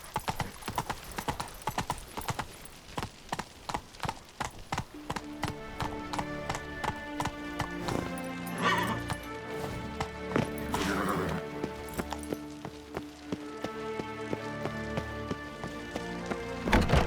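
Hooves of Roach, a horse in The Witcher 3: Blood and Wine, clip-clopping in a steady, fairly fast rhythm throughout, with background music and a short spoken line in between.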